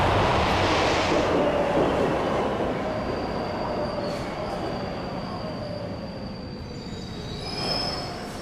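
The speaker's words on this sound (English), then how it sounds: "Patricia Messari arrives at Fulton Street subway station in downtown Manhattan." A subway train at Fulton Street station in downtown Manhattan rumbles loudly while its wheels screech in long, high squeals that slowly fade as it rolls through.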